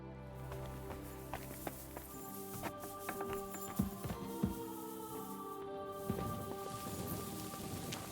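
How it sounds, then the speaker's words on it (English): Rain patters softly over a medieval countryside in Kingdom Come Deliverance 2, with hoof clops and footsteps picking through the faint, steady drizzle. "It's raining"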